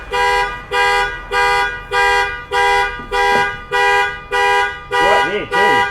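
A car alarm blares repeated pulsing tones, loud and close, in a steady on-off rhythm. A warbling siren pattern starts near the end.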